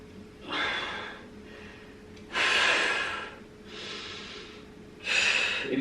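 Heavy, forceful breaths during a dumbbell leg workout come in four loud bursts, alternating hard inhales and exhales at a close, steady rhythm with no talking.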